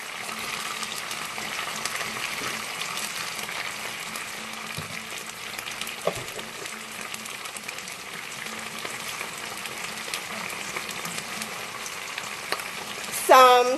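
Onions and garlic stir-frying in a pan for vegan chop suey, a steady close sizzle and hiss with occasional stirring knocks, and a voice speaking briefly at the end.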